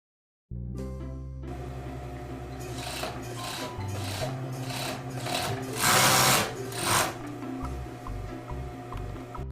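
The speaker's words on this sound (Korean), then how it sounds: "나머지 3면을 오버록 해주시면 돼요" An overlock sewing machine runs around three edges of a fabric cover for a two-door kimchi refrigerator, trimmed with lace and bias binding. It starts after a brief silence and then keeps up a close, steady, rapid mechanical whir that swells in the middle.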